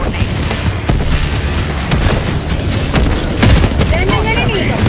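Dense, chaotic Helldivers 2 combat rumbles with repeated booms from rocket explosions and rattling gunfire, loud and continuous, while players talk over the din.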